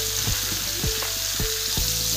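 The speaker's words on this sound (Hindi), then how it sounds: "तो इसके बाद मैं इसी कढ़ाई में ये बेम्बू सूट को अच्छे से फ्राई करके लूँगी" Bamboo shoots fry in oil in a wok already used for chicken, in a traditional Bodo dish. A loud, continuous sizzle is broken by four rhythmic stirring scrapes close by.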